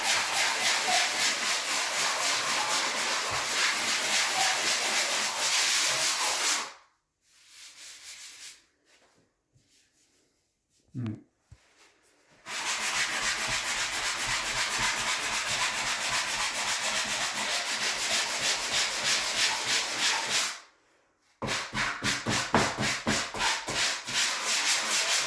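A patched drywall crack being sanded or scrubbed smooth by hand, long runs of rapid back-and-forth rasping that stop for a few seconds twice before starting again, close and alone.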